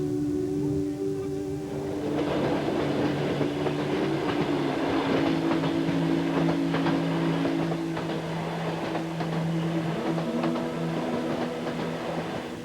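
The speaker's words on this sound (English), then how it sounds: "a train passing through this world of white is just another train" A Trans-Siberian train rolls through snowy Siberia, with a steady low rumble and rattling wheels under sustained horn-like tones that shift and hold for over ten seconds, moderately loud and continuous.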